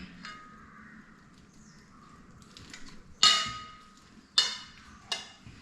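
Peperomia pellucida leaves being chopped for a thoran, heard as a few sharp knife strikes on a board at a slow, uneven pace, close and fairly loud against a quiet background.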